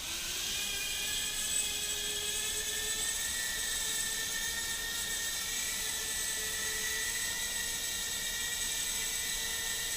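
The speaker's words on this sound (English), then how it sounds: "Just arm and start lifting up the throttle." A beginner drone's motors spin up and hold a hover, a steady high-pitched whir and buzz with layered tonal whine, loud and constant without any speech.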